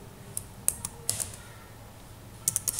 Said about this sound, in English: So I'm just typing my name in the uppercase letters